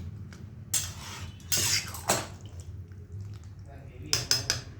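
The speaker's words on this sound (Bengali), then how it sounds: "ঢাকা দিয়ে দিচ্ছি, মাংসটাকে ঢাকা দিয়ে দিলাম" Metal lid clattering onto a pot of simmering meat curry with green jackfruit, a few sharp clanks and scrapes spread over several seconds, closing with a quick cluster of metallic knocks against a low kitchen hum.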